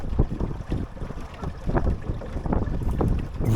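Wind gusting across a small sailing dinghy on Lake Ullswater, a steady broadband rush with buffeting against the microphone and faint water movement, continuous and close throughout.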